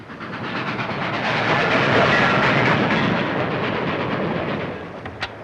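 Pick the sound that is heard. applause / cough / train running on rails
train running on rails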